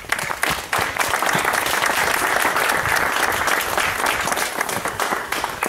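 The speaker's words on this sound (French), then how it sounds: "Et on peut encore vraiment l'applaudir." Loud, sustained audience applause at a ribbon-cutting inauguration, a dense wash of many hands clapping that starts abruptly and carries on evenly throughout.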